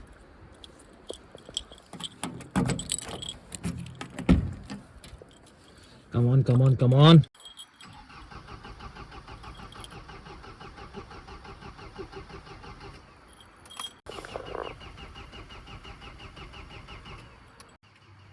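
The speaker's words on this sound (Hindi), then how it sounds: "मैं अपनी गाड़ी स्टार्ट करके देखता हूँ, हो रही नहीं हो रही है" A car's engine cranking in the cold in the Himalayas, with several short churning bursts and a longer labored crank in between, then a rough running or idling engine, while someone speaks briefly.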